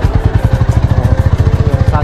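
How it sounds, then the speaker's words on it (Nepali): A motorcycle carrying a rider and a passenger on the Butwal–Narayanghat road, its engine thrumming with a steady, rapid low pulse close by throughout, with voices talking over the ride. "साथीले चाहिँ बाइक राइड गर्नु भएको छ"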